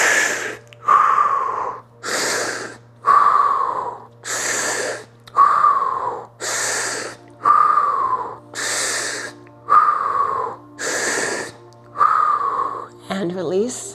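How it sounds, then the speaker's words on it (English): Deep, rhythmic yoga breathing held through a seated spinal twist, with about seven long, loud inhale-exhale cycles spaced evenly and close to the listener, against a steady low hum. "6 breaths with me"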